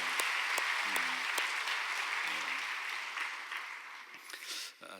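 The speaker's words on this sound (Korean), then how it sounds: "서로 한번 격려의 박수로 함께 하시죠" A church congregation at a Sunday service applauds together in a dense, even wash of clapping that holds steady and then tapers off. A voice speaks briefly underneath.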